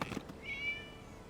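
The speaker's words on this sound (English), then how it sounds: "It was just a cat." A single short meow from a cat inside the Genshin Impact video game, faint and rising, heard alone against a quiet background.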